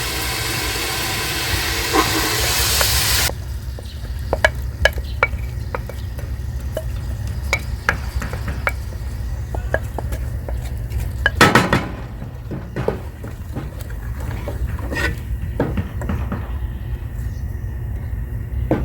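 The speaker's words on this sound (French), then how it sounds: "nous allons rajouter cette fois notre poisson fermenté ainsi que nos éléments qui ont été mixés" Fermented fish and blended onion, tomato and peppers go into hot peanut oil in a saucepan for Liberian chuck rice: a loud hiss at first, then steady close sizzling with scraping spoon and pot clatter.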